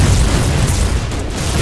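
A mortar barrage in the game Foxhole, loud, continuous booming and rumbling with dense low-end blasts that blur into one another at close range.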